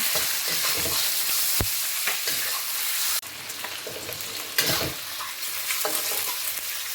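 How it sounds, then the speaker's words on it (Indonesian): Chicken pieces stir-fried in a pan with red yeast rice and ginger: a steady, close sizzle broken by scraping strokes of the spatula, with no voices. "Jadi angkanya ditumis sebentar bersama jahe, lalu nih ayamnya dimasukkan, tumis bareng."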